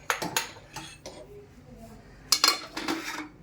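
A large cooking vessel clanks and clinks as it is set down and moved about in a home kitchen before roasted semolina is spread in it, several short metallic knocks scattered across a few seconds, close and moderately loud, no talk.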